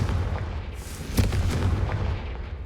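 Bombarda spell in Hogwarts Legacy going off as a booming blast with crackling bursts, followed by rumbling debris that fades out over a couple of seconds; moderately loud against a low game backdrop.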